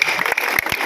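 Audience applause at a Hindi poetry recital in Bundi, a dense, continuous patter of clapping from a crowd, fairly loud and steady with no one talking over it.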